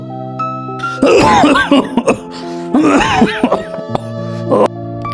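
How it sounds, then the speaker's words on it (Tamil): A smoker coughs in harsh repeated bursts and clears their throat, close up, with a tonal musical background underneath. "நீ பாருங்கள் எப்படி இருமுறீங்க பாருங்கள்."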